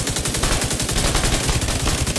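Rapid automatic gunfire from the Bluescreen exotic gun in the video game The Division 2, firing continuously, loud and close with an even, rattling rhythm and no pauses.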